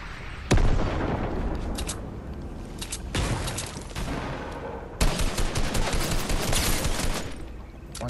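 Dense gunfire rattles through a Fortnite match, with a sharp loud blast followed by sustained bursts of rapid shots and booms that surge again midway, nearly continuous and close.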